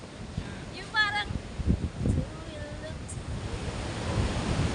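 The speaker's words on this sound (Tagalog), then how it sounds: "yung combination ng wind, tapos yung waves ng dagat." Wind and sea waves wash against a shore in soft, uneven surges beneath a gusty hiss, while a voice talks over it.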